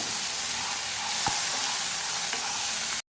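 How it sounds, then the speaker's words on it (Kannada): Onion and tomato fry in a pan, a dense, steady close-up sizzle with soft stirring scrapes and no talking. "ಸಾಕೀಗ ಈರುಳ್ಳಿ ಕೆಂಪಗಾದದ್ದು 1 ಟೊಮೆಟೊ ಹಾಕಿ ಟೊಮೆಟೊ ಮೆತ್ತಗಾಗುವವರೆಗೆ ಇದನ್ನು ಫ್ರೈ ಮಾಡ್ಕೊಳ್ಬೇಕು"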